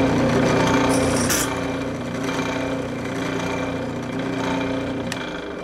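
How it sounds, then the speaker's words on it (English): A power drill with a 5/32 bit bores into wood to enlarge holes for a keyhole escutcheon, giving a steady, close whirring grind with a few brief scraping bursts. "Now I'm going to go back and enlarge them with the 5/32 drill bit."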